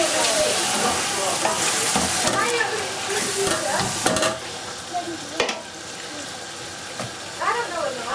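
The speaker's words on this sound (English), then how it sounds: "fry the mixture" A mixture with green chilies and a little water sizzles and fries in a pan while being stirred, with scraping and bubbling throughout and faint voices in the background.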